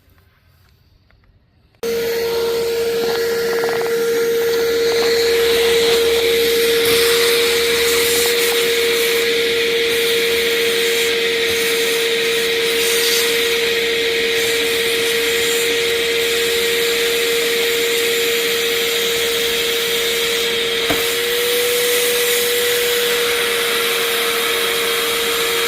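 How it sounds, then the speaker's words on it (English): A vacuum cleaner switches on abruptly and runs steadily with a loud, constant whine and roar, close by, with no talking. "I might grab a vacuum real quick"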